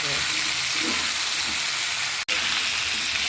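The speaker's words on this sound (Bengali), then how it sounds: "আজকে আমি সব কিছু ভেজে রান্না করছি" Flat beans and potato pieces frying in hot oil in a pan, a loud, continuous hiss and crackle, with a faint voice underneath and a brief drop to silence near the end.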